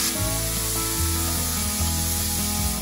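Onions sizzle steadily in a hot pan, sautéing before venison backstrap goes in: a dense, continuous frying hiss close up, with faint scraping as they're stirred and no talk.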